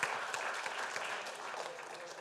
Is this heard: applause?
yes